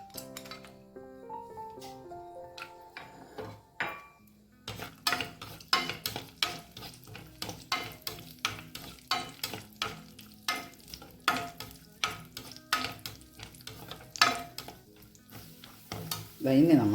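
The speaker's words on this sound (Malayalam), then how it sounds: "കുറച്ച് നെയ്യ് ഒഴിച്ചിട്ട് നമുക്ക് കുറച്ച് അണ്ടിപ്പരിപ്പും പൊട്ടുകടലയൊക്കെ ഒന്ന് ചൂടാക്കിയെടുക്കാം." Cashews and roasted gram stirred in hot ghee in a pan, a spoon scraping and clinking against the metal in a regular rhythm over a soft sizzle.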